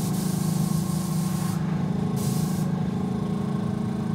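An airbrush gun shooting fresh cleaner through its nozzle, a steady close hiss of spray lasting the whole stretch over a low mechanical drone, with two brief shifts in the airflow partway through.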